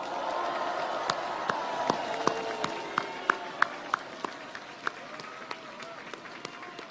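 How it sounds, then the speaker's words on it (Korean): An audience claps at an outdoor March 1st political speech in Myeongdong, Seoul. Distinct sharp hand claps ring out at an uneven pace over a low crowd murmur, then thin out toward the end. "격려 박수 한번 크게 쳐주십시오."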